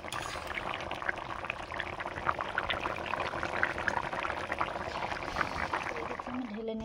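Thin fish jhol made with fresh pond fish is poured from a cooking pot, giving a soft, steady liquid gurgle and splash, close and fairly quiet, with no talk.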